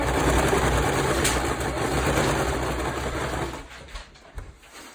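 A sewing machine stitches pieces of fabric mask together, a steady close whirring run of dense needle strokes for nearly four seconds that stops abruptly, followed by a few small clicks.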